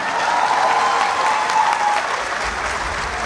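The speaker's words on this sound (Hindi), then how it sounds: "इनके लिए बहुत भरपूर तालियां" A dense, steady round of applause from a crowd at a university poetry recital, loud and continuous without a break.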